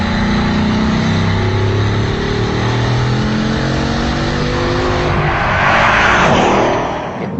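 A Bugatti Chiron accelerates hard as its loud engine note climbs steadily through the gears with brief shift dips, swelling into a roaring rush near the end. No voices are heard.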